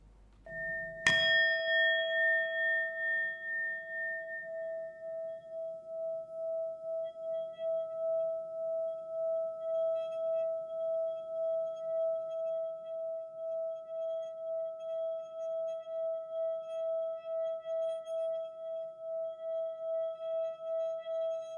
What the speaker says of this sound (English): The singing bowl is particularly prominent within these contexts, capable of producing a long sound for an impressive amount of time.